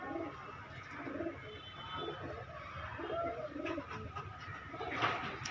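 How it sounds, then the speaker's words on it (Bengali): A pair of Saranpuri Kaldam pigeons coo close by in repeated soft, throaty rolling phrases over a low background murmur. "এক পেয়ার সারানপুরি কালদম আছে, অনেক সুন্দর কোয়ালিটির কবুতর"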